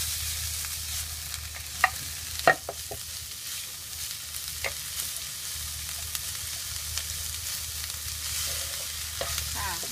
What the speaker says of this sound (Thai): แล้วก็ผัดไปให้เขาสุกก่อนนะคะ